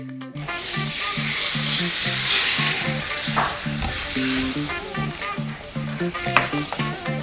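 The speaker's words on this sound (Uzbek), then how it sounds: "Yaxshilab aralashtirib qaynatib qo'yamiz." Corn flour roux bubbling and hissing after water is poured in, with repeated scraping stirs in a steady rhythm, loud and close, no voices.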